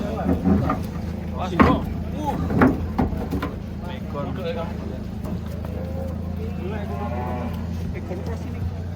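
Giant cattle come off a truck at dawn, mooing in low, drawn-out calls. The calls sit under nearly continuous talk and a steady background rumble.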